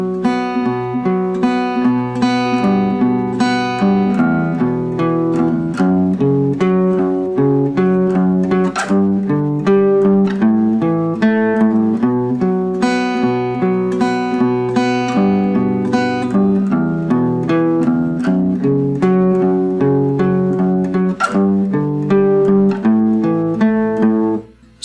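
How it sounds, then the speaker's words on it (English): Guitar plays the riff from a song without the slide, a steady rhythmic pattern of picked and strummed notes repeating for the whole stretch at close, even loudness, with no voices. "here's what the riff sounds like if we don't put the slide in it."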